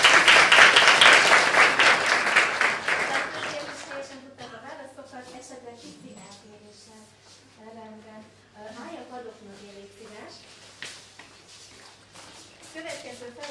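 An audience at a memorial event breaks into loud applause that gradually fades, giving way to someone speaking over faint room noise.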